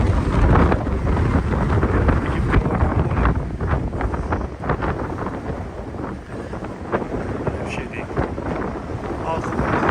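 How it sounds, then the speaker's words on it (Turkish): Strong wind buffeting an outdoor microphone at a roadside work site where paving stones were lifted and relaid in Ağşəhər, a steady loud rumbling roar with gusty surges lasting throughout and occasional voices underneath. "Küləkdir, külək dağıdır."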